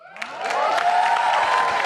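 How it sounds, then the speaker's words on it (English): An audience applauds and cheers as a guest is welcomed onto a stage at a talk event. The clapping swells within a quarter second and then holds as a steady, dense wash. "Can we have a big round of applause?"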